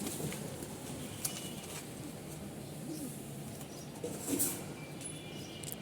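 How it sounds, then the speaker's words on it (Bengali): Racing pigeons in a loft coo softly in a low, throaty murmur, with a brief flutter near the end, heard faintly against a quiet background. "এই যে কবুতর গুলা এদিকে আছে কিছু"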